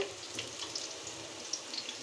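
Onions fry in a pan for a home-cooked fish curry, a faint, even sizzle with a few tiny pops, close but very quiet.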